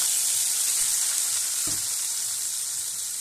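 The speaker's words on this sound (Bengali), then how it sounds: "দিয়ে এবার এটা কষাতে থাকবো" A poppy seed, mustard and green chilli paste sizzles steadily in hot tempered oil, a loud continuous frying hiss with a couple of faint stirring bumps.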